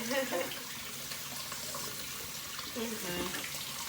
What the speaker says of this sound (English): we're gonna just run some hot water in the sink